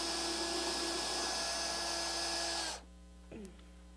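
A steady high-pitched drill whine runs for nearly three seconds while drilling holes in wood, then cuts off, followed by a quieter hum and a small knock.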